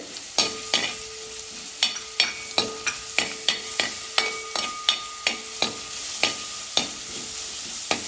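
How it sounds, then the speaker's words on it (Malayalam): Ginger and garlic sautéing in oil in a pan for chicken roast, with sharp, regular spatula clicks against the pan about twice a second over a steady sizzle, close up. "ഇഞ്ചി വെളുത്തുള്ളി ഞാൻ ഇട്ട് കൊടുത്തിട്ടുണ്ട്. ഒന്ന് മൂപ്പിച്ചെടുക്കാം."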